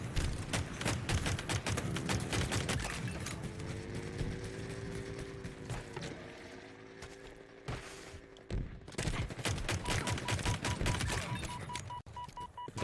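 Pistol gunfire in the video game Halo Infinite, bursts of rapid sharp shots and impacts crackling through a busy team battle, with a brief lull in the middle before the firing resumes.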